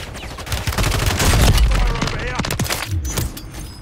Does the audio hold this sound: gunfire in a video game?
yes